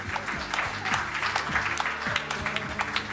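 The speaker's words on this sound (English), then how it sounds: "Please give a round of applause." An audience at an enterprise development awards evening applauds, a moderate, fairly even patter of clapping heard under faint background talk or music.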